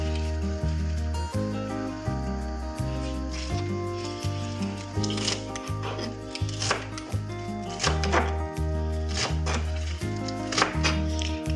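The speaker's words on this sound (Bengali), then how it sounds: "এবার শাকগুলোকে কুচি কুচি করে কেটে নিচ্ছি" A knife chops cabbage greens finely on a board, quick, steady rhythmic strikes close up, while music plays underneath throughout.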